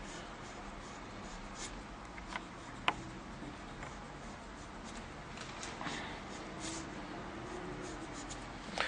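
A broad calligraphy pen, over 12 mm wide, scratches across paper while forming the Thuluth letter ba, a soft continuous scraping with a few sharper ticks, close and quiet, with no talking.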